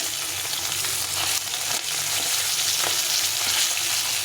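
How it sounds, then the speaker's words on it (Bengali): Fish sizzle and crackle in hot oil in a pan, a dense, even frying hiss held close throughout with faint stirring ticks and no voices. "এইভাবে মাছগুলোকে সব ভেজে নেব"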